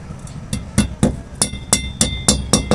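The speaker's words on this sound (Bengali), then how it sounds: "প্রথম বন্ধুরা হালকা আমি হ্যামার দিয়ে মেরে নেবো।" A hammer strikes the metal mount of a Tata Play satellite dish during installation, giving about ten sharp, ringing metallic taps in a quick, fairly even rhythm. The taps are close and loud, with no talking.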